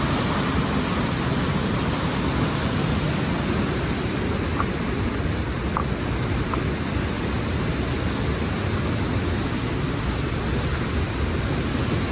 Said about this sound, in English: it's so loud down here. You can't hear anything but the water.